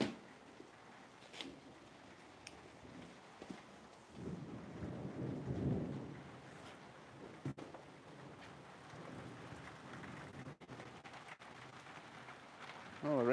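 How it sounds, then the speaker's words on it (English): Heavy rain pours down in a thunderstorm, with low rumbling thunder swelling midway and a steady wash of rain around it. Occasional sharp cracks and knocks stand out near the microphone. "Oh, the rain is coming pretty sideways."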